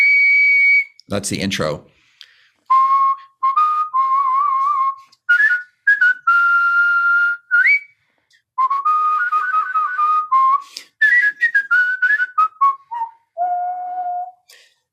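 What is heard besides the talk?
person whistling Happy Birthday tune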